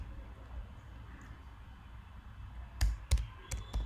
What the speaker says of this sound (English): let me just type it